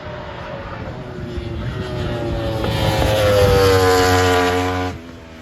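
A MotoGP motorcycle carrying two riders races past at high speed at a French gendarmerie event, its loud engine whine swelling and bending down in pitch as it passes close, then cutting off abruptly, with no talk.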